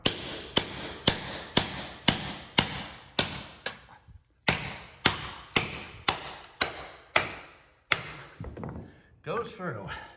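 Sledgehammer blows striking a steel wedge driven under floor tile during demolition, a steady series of about a dozen sharp, loud metallic strikes at roughly half-second intervals, with a brief pause midway and scraping debris at the end.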